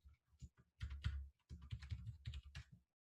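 Fingers type a search on a computer keyboard in a quick run of close key clicks, with a short pause and then a second irregular burst of clicks before stopping, no talking.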